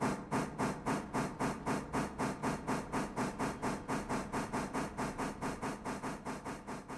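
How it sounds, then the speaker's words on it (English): Locomotive brakes releasing in the train game Railroader, heard as a rapid, regular series of rhythmic air hiss pulses, about four per second, steady and moderately quiet throughout. "Now that the engine is disconnected, we can release the brakes."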